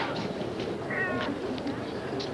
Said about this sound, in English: Oh, Agatha's my cat